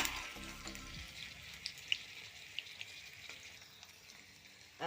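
Panikoorka leaf bajji fritters fry in hot oil with a steady soft sizzle and a few brief clicks and taps throughout, close by, with no talking.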